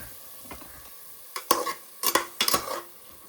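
Onion paste frying in a pot for a one-pot pulao, a sizzle under scraping spoon strokes that come in bursts, louder and closer in the second half, with no talking.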